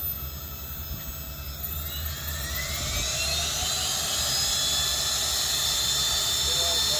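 A SubSonex jet engine spools up to high power, its loud roaring whine rising in pitch and building steadily into a sustained, intense scream.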